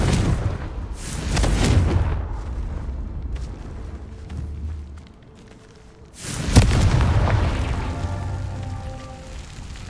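Confringo blasting spells in Hogwarts Legacy set off two loud booming explosions, each a heavy rumbling blast that decays slowly, with a quieter lull between them.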